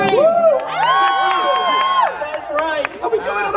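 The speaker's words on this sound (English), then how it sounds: "everybody scream" A crowd at the VidCon Europe convention screams and cheers before a stage act, with loud, sustained high-pitched shrieks and whoops that rise and fall throughout.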